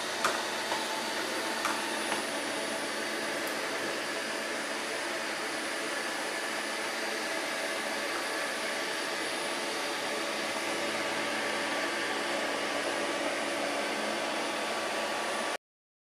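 A Eureka E10s robot vacuum cleaner runs with a steady, even whir and hiss, constant in level throughout and heard alone without talk.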